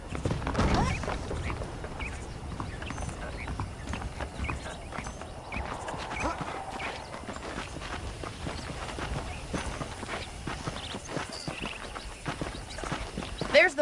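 Steady clip-clop of horse hooves walking at an even pace in the video game Red Dead Redemption, close by, with faint outdoor ambience underneath.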